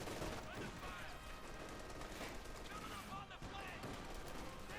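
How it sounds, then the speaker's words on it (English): Dense gunfire and machine-gun bursts crackle continuously in a Company of Heroes 2 battle between Wehrmacht and US forces, busy and layered, with a voice talking over the shooting. "Lots of shooting here."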